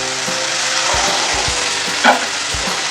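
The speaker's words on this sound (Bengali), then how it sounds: "আমি আগে একবার নাড়িয়ে নিচ্ছি হাই হিটে" Prawn chochchori made with shapla prawns frying on high heat in a pan, a steady loud sizzle with several scraping stirs of a spoon against the pan and one brief sharper clatter near the end, no talking.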